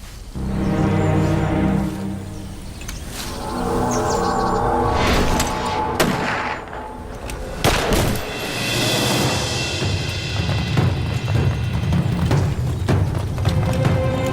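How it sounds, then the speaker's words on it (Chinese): Loud booming bursts of gunfire echo over a dense, rumbling background, with several heavy impacts spread through the clip and no clear voices. "枪声。"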